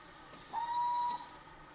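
LBSCR E4 steam locomotive in the TrainSim game gives one steady whistle of about half a second, clean and fairly faint over a quiet background hiss, with no talking.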